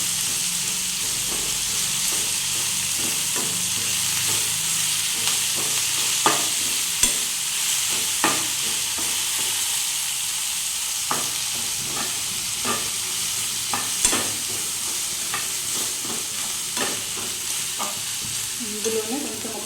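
Food fries steadily in a pan, a continuous close hiss and sizzle lasting throughout, punctuated by irregular sharp taps and scrapes of a utensil stirring.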